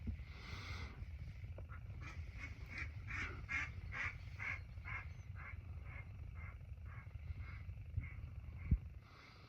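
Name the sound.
ducks quacking outside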